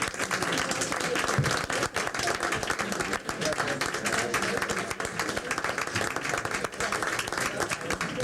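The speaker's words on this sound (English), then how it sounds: "Ladies and gentlemen, round of applause." An audience at a school board meeting claps through a standing ovation, continuous dense clapping filling the room, with some voices mixed in under it.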